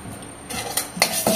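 Close-up scraping and stirring of dry cumin seeds roasting in a metal pan, with a few sharp spoon clinks against the pan and a faint crackle underneath.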